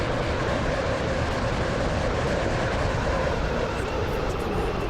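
A video game train runs steadily on rails, a continuous loud rumble with faint clickety-clack, no voices, unchanging throughout.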